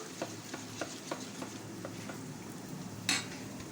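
A spoon stirring thick vegetable cutlet batter, soft rhythmic scraping strokes in a bowl, close and quiet, ending with a brief louder clink.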